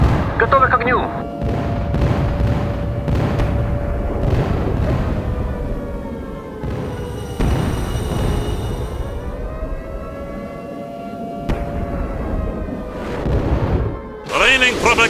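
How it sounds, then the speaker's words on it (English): Heavy artillery booms rumble through a dense game soundscape, with a steady droning tone and a wailing siren-like sweep underneath, plus occasional voice. "Артиллерия ждет приказа."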